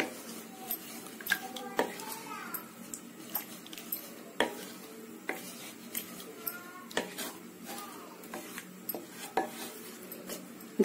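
Chickpea and brinjal gravy with tamarind water is stirred in a pot, a spoon scraping and clinking against the metal in an irregular string of close, sharp knocks over a low background hum.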